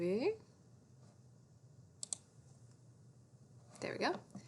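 Two quick, sharp computer mouse clicks land close together, faint against quiet room tone, with a bit of speech at the start and the end.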